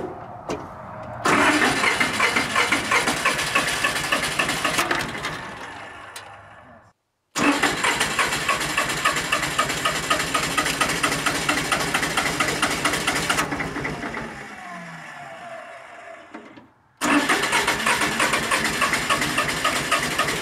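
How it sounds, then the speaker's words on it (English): A Massey Ferguson 1010 tractor engine cranks in loud, rapid chugging bursts that stop briefly and restart several times, close by with no talk over it. "Get ready to crank it."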